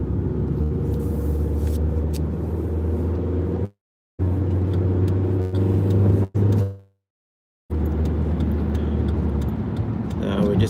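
A premium-fuel car drives along a suburban road about to turn onto the Mitchell Freeway, giving a loud steady engine and road rumble from inside the cabin, broken by two short dropouts.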